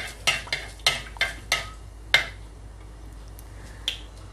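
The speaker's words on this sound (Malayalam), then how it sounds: "ഉലുവ ഒന്ന് പൊട്ടും വരെ വെയിറ്റ് ചെയ്യാം, കാരണം എണ്ണ നല്ല ചൂടായതുകൊണ്ട് പെട്ടെന്ന് തന്നെ ഉലുവ പൊട്ടും." Fenugreek seeds spluttering in hot coconut oil for a Kottayam-style king fish curry: about seven sharp, crisp pops at irregular intervals over a faint background sizzle, close and fairly loud, with no talking.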